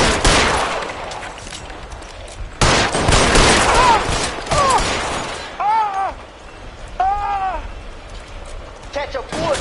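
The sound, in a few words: gunfire in the video game LA Noire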